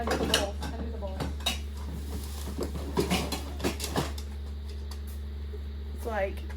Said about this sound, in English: I'm gonna go pull out that other one and compare the size of the pots.